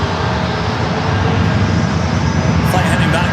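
A steady, loud engine roar of an airplane at San Diego airport fills the scene as the aircraft runs up for takeoff, continuous throughout.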